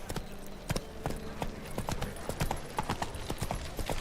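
The horse Roach trotting in the video game The Witcher 3: a steady, close clip-clop of hooves in an even rhythm, with a faint snort among the hoofbeats.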